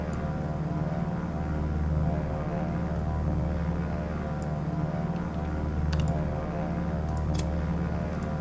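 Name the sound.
dive bomber aircraft in a video game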